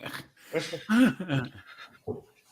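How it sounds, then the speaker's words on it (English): A dog whimpers and pants softly nearby, with short breathy whines and one rising high whine in quiet, uneven bursts. "He's just sitting there kind of whimpering."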